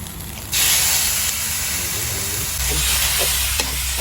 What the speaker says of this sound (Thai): หมูลงไปผัดให้สุกครับ